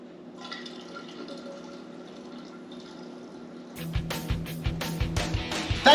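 Mixed fermento liquid is poured into a mead jar. There is a faint trickle at first, then a louder, splashy, gurgling pour with a few bright drips and clinks toward the end.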